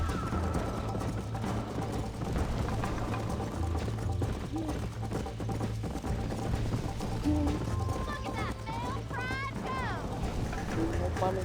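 Horse hooves clip-clopping in Red Dead Redemption, a steady rhythmic gait under game music and other in-game sounds, with voices talking over it for much of the time.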